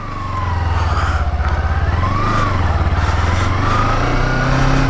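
Kawasaki Ninja 250R motorcycle riding on a highway, its engine droning steadily and loudly up close with rising and falling revs and rushing wind throughout.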